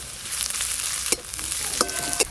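Nigella seeds, chopped onion, garlic and slit green chillies fry in mustard oil with a steady, bright sizzle, broken by a few sharp clicks from stirring.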